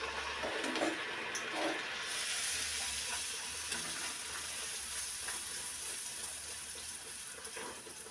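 Food sizzles in well-heated oil in a pan, a continuous bright hissing crackle that stays close and steady, with faint handling clatter early on and no talking.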